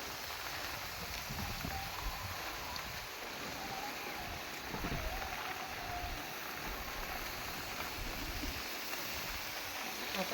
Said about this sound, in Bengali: দেখতে পাচ্ছেন কেমন বৃষ্টি হচ্ছে, ওয়েদার খুব খারাপ, ঝড়ও হচ্ছে